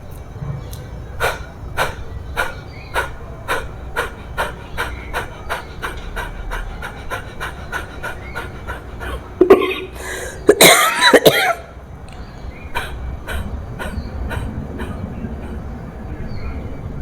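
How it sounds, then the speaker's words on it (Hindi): A woman coughs in a harsh, loud burst of several coughs after eating a full meal, with a steady rhythmic panting breath before and after from a yoga breathing exercise, indoors and close. "सॉरी, मुझे इसलिए खांसी आ गई"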